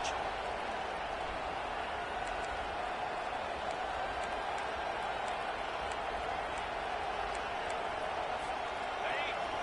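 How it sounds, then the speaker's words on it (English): A college football stadium crowd at an Oregon game keeps up a constant loud roar, broad and distant, steady for the whole stretch with faint whistles or shouts mixed in, under a commentator's talk. "This crowd trying to make life miserable for this offense"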